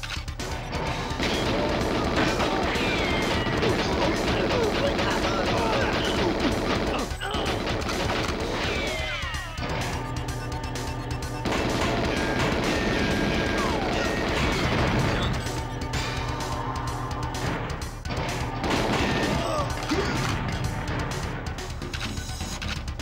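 Loud, continuous GoldenEye 007 video game combat: repeated crashes and blasts of gunfire as a console is blown up among guards in a tight hallway, dense and sustained throughout with brief lulls.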